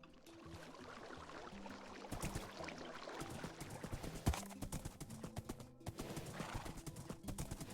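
Minecraft horse in the video game: a steady, soft clip-clop of hooves with an occasional whinny, all fairly faint and low in the mix.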